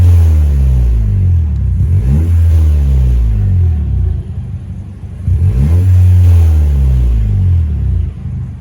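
A 2020 Toyota Corolla XS hatchback fitted with a Powerflow exhaust revs loudly and close, its deep rumble swelling through two long rises with a brief dip between them.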